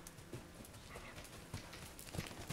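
A horse in a stretchy trot gives soft, rhythmic hoof clip-clops on the ground, moderately close against a faint outdoor background.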